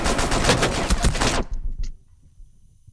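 Rapid automatic gunfire in Rainbow Six Siege, a loud dense burst lasting about a second and a half before cutting off abruptly, leaving quiet game ambience.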